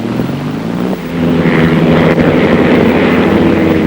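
A small propeller aircraft at a seaside airfield, used for pleasure flights along the coast, drones steadily with a low engine hum that swells louder after the first second and holds there.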